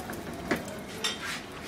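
Paratha frying in a pan while being pressed down, a soft steady sizzle with a couple of brief scraping or clinking touches from the utensil.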